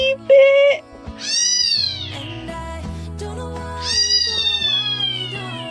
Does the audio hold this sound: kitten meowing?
yes